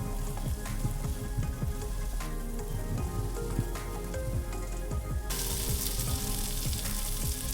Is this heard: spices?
yes